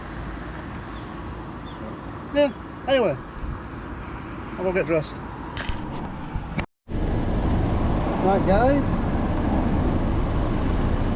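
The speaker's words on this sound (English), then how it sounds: "Apart from the traffic noise, quite a bit of traffic noise" Steady road traffic hum from nearby vehicles beside a historic Lancaster area spot, running continuously under someone talking, with a brief dropout midway.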